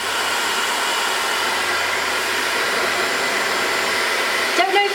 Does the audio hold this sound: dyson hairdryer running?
yes